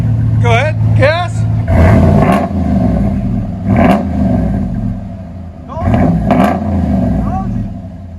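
A 2018 RAM 1500 with the 5.7L HEMI V8 and Flowmaster Super 10 dual exhaust revs loudly nearby, with several rising and falling throttle blips over a deep idle, while someone talks and reacts over it.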